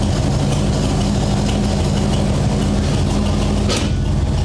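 The engine of a 1964 Ford F100 pickup runs up on stands in first gear with the clutch slipping, giving a loud, continuous low rumble that stays close and steady throughout.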